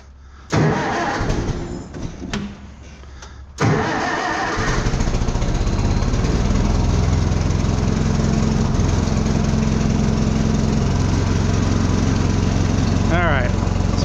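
A tractor engine is choked and started on a farm at hay time. The engine catches after a few tries and then settles into a loud, steady idle that runs on close by.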